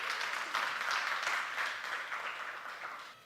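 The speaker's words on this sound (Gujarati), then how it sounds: "તાળીઓ હોલસેલમાં." A seated audience at a youth camp applauds, with a steady, dense wash of clapping heard at a moderate distance and fairly soft, slowly fading toward the end.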